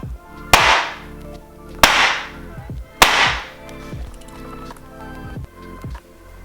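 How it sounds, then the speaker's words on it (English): Three loud metallic bangs of a baking tray of macarons slammed against a counter, evenly spaced about a second apart, followed by lighter rattling and taps. "what we have to do is bang the tray, which is my favorite part. It's a lot of noise"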